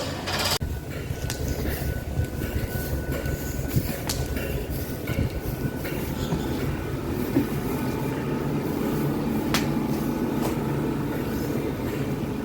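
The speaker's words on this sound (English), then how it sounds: "This is the first Great Western Railway service to Cardiff Central." A Great Western Railway class 166 diesel multiple unit pulling into a station, a sustained low rumble with intermittent clanks and brake or door knocks, heard at moderate distance and steady throughout, with no talking.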